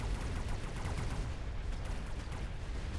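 Incendiary bombs from the strategy game Mechabellum fire in dense, overlapping bursts of crackling blasts and muffled booms that roll on continuously at moderate loudness, with no voices.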